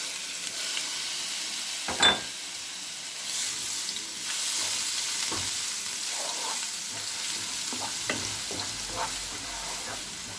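Chopped onion fries in hot oil with cumin and bay leaf for Punjabi chole, giving a continuous moderate sizzle with occasional spoon stirs and clinks throughout.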